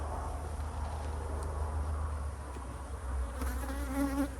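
Honey bees buzz steadily in an outdoor bee yard, a continuous, dense hum of many insects at moderate distance with no talking.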